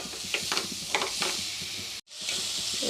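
A coconut and jaggery ladoo mixture is stirred in a pan, with a soft sizzling hiss and repeated scraping strokes up close, broken by a brief cut of silence partway through.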